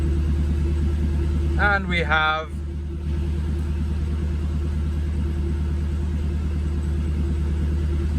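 A Ford Focus fitted with a twin-turbo V8 idles with a steady, deep low rumble close by. Someone speaks briefly over the engine, and the rumble carries on evenly afterward.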